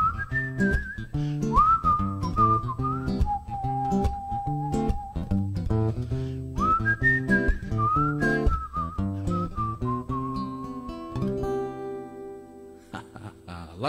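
An audience whistles a melody clearly at a festival finale, bright sliding notes held and stepping between pitches over a rhythmic instrumental accompaniment.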